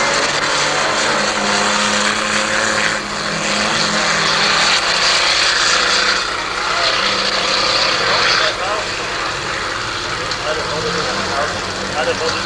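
A twin-engine racing car speeds along the fast Teissing track, its loud, continuous engine roar swelling and easing as it passes, with a commentator speaking over it.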